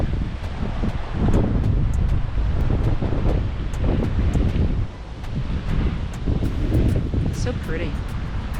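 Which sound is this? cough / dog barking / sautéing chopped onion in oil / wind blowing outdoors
wind blowing outdoors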